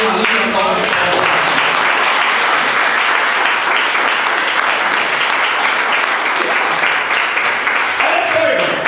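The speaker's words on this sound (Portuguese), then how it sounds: "Por uma linda salva de palmas." Church congregation applauding during a sermon, a loud, dense and sustained wash of clapping that fills the room from start to finish.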